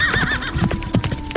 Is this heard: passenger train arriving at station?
no